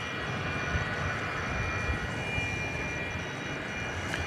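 An MD-11 rolling for takeoff on a runway at DFW Airport after dark, a steady, fairly distant broadband engine roar that holds evenly throughout, with no talking.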